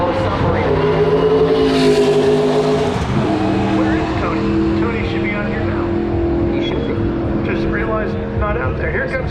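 Historic IndyCar race car rolling down pit lane at the 2024 Long Beach Grand Prix, its engine note shifting and revving steadily over several seconds while a commentator talks over it.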